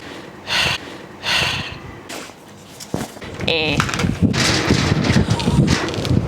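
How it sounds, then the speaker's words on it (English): Gusty wind buffeting a microphone outdoors in cold weather, with rough low rumbling bursts that rise and fall unevenly, plus close breathy snorts and sniffs. "It's windy"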